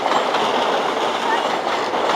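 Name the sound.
train passing at York station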